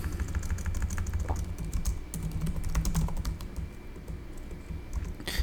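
Fingers type on a computer keyboard while code is entered. Steady, close, rapid key clicks run throughout with short pauses, and no talk.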